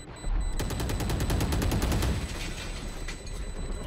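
An RGX Phantom rifle fires in a video game, a fast rapid burst of loud close shots that runs for a couple of seconds before fading into a dense, reverberant gunfire din.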